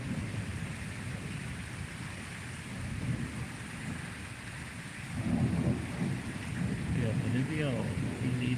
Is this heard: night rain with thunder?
yes